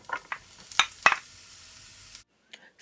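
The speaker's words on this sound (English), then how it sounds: "So now I'm gonna add my onions and my garlic." Chopped onions and garlic hit hot vegetable oil in a pot on the stove, giving a broad sizzle with a few sharp crackling bursts and stirring scrapes, then a sudden drop to near silence followed by faint clinks.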